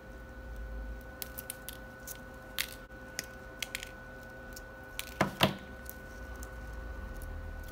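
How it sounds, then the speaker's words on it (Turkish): Alternator coil wire ends being snipped after winding a coil for a homemade wind turbine generator, a few sharp close clicks and a quick double cut over a steady background hum. "Hemen şunları keselim."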